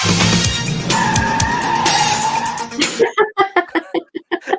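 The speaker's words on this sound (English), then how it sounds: "our mates turn up, who must have been traveling at some speed when you hear the screech when they stop" Car tyres screech loudly as a vehicle skids to a halt in a film scene, a sustained squeal lasting about three seconds before giving way to a series of sharp, clipped sounds.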